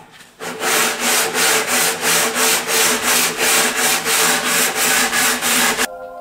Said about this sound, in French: Je termine d'affleurer mes champs en utilisant le petit rabot et ensuite une cale à poncer.